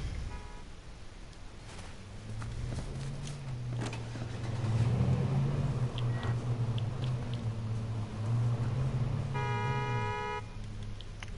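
A car driving and revving in the H1Z1 video game, its steady engine drone running close and continuous throughout, with a few brief game effects on top and no talk.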